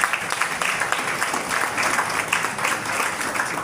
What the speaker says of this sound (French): Les parents applaudissent nous tous